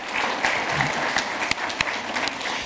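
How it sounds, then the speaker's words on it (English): Audience at a regenerative agriculture event in NYC applauding sponsor Green Cover; dense, steady clapping from a fairly large crowd throughout, with a few sharper claps standing out. "So we just want a huge round of applause for Green Cover."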